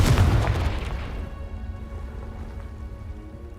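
Confringo spell in Hogwarts Legacy going off as a close, loud fiery burst that decays into a crackling, rumbling tail over a few seconds.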